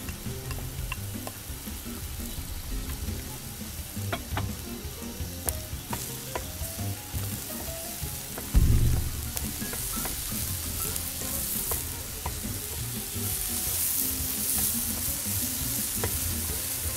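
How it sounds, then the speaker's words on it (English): Tomatoes hit hot oil with sautéing onion for paella, a loud, steady frying sizzle close up, with occasional stirring scrapes and one sharper clatter midway, no voices. "Okay, it's been sauteing for a couple minutes. Now we put the tomatoes"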